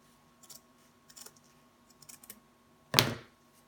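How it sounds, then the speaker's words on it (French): A small pair of scissors snips a napkin ring: several light clicks and short cuts close by, followed by one louder, sharper snip. "On découpe avec notre petite paire de ciseaux."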